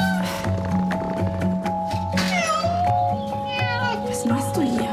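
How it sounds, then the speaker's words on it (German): A cat meows repeatedly in short, insistent calls over steady background noise and a low rhythmic hum, with a voice speaking briefly. "Blöde Katze!"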